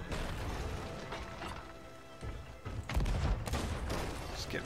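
Cannon fire in a ship battle video game, a series of muffled booms and bursts with rumbling impacts, growing denser and louder in the second half.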